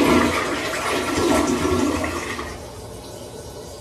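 A toilet in an American college dorm room flushes, a loud close rush of swirling water that drains away and quiets near the end.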